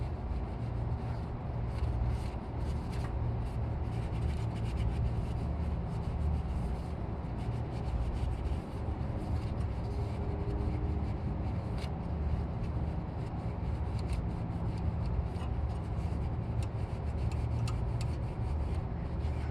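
Rag wiping dirt and sludge off an Infiniti G35 oil filter seal, a continuous close rubbing and scuffing that runs steadily throughout, no speech.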